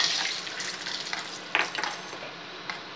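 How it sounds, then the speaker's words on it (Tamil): Cashews and raisins frying for pongal give a close, continuous sizzle, with a few sharp stirring clicks and scrapes scattered through a short stretch, and no voices. "இப்போ முந்திரியும் திராட்சையும் வறுத்து கொட்டிடுவோம்."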